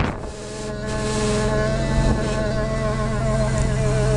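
A Toyota Celica Supra engine with an Eaton M90 supercharger, on its first fire up, runs at a steady idle, a continuous close droning hum with even harmonic tones and a slight rush of air throughout.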